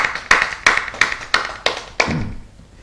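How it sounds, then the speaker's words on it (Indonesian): A church congregation claps in unison during a sermon, giving seven sharp, evenly spaced claps in a quick steady rhythm before a short trailing sound. "Berikan tepuk tangan buat Tuhan kita."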